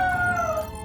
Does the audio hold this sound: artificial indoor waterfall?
no